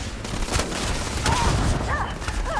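Laser pistol fire in the sci-fi game Starfield, a few sharp zapping shots over a busy, dense game soundscape with brief whistling tones near the end.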